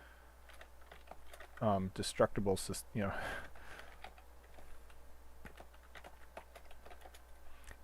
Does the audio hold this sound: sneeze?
no